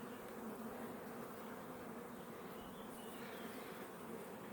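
Gray bees buzz at a Ukrainian beehive in a steady, dense drone that holds unbroken throughout, close by with no voices.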